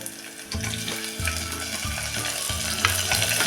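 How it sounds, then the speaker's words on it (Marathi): Tomatoes sautéing with onions in a pan, a steady broadband sizzle with stirring scrapes and low rhythmic knocks every half second or so, close and moderately loud, no talking. "टोमॅटो पण एक मिनिटभर असा परतूया"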